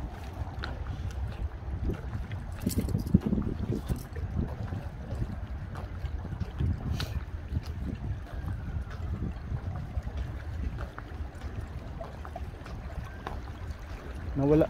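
Steady wind rushes over a small fishing boat on choppy water near a strong current heading out to open sea, a continuous low roar with water slaps, close and loud throughout.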